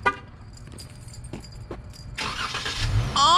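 A car engine cranks and catches after a few faint clicks and rattles, then settles into a steady close idle that grows louder, with a brief tonal chirp at the end.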